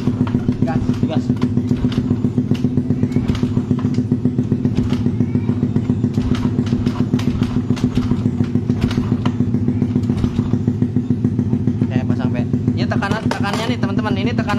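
A motorcycle engine runs loud and close with a steady rattling idle, its throttle blipped in repeated short bursts, while someone talks over it.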